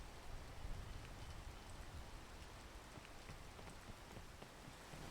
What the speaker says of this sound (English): Because there's the rain.